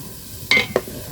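Grated coconut stirred and fried in a pan, with a soft sizzle and two sharp spatula scrapes and clinks against the metal in quick succession.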